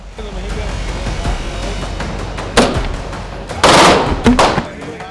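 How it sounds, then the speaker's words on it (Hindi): Sudden rapid gunfire breaks out at close range amid a police cordon and media crowd in Prayagraj, loud sharp cracks in quick bursts over a background of crowd noise and traffic. "इतना कहते ही ताबड़तोड़ फायरिंग शुरू हो गई।"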